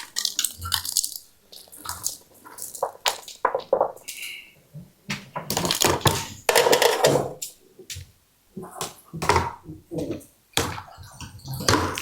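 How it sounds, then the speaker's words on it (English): Homemade gnocchi go into boiling water in a kitchen, with a busy run of splashes, plops and clattering pot sounds, fairly close and loud, with no speech. "So I have some gnocchi already made. So we're going to boil it."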